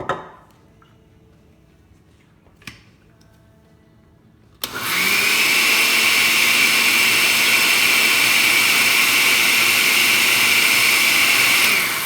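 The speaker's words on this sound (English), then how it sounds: "I'm gonna add about 3 tablespoons of vinegar in this and blend this right now." A kitchen blender whirs loudly and steadily, blending dry spices with cider vinegar into a paste for pork vindaloo, starting abruptly after a few quiet seconds with faint knocks and continuing as a constant high motor drone.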